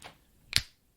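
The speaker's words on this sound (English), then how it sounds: "I bet you can't snap your fingers, can you?" A single sharp finger snap cracks out close and loud after a brief quiet moment, then fades quickly.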